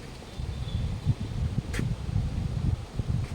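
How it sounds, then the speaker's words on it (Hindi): Outdoor wind blusters steadily into the microphone outside a district office in Gopeshwar, Chamoli, a low rumbling roar with a brief rustle partway through and no talking. "यहाँ पे थोड़ा हवा चल रही है"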